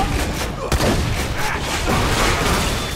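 Rapid gunfire from weapons in the shooter game Borderlands 2, a dense burst of shots with a sharp crack near the start, loud and continuous for the whole span.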